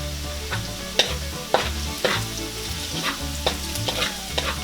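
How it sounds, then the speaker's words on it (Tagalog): Garlic frying in oil for pork tripe adobo sizzles steadily while a utensil stirs it, with sharp scrapes and clinks against the pan recurring about once a second. "hahaluin lang po natin siya. Hanggang sa mag-brown na po yung ating bawang"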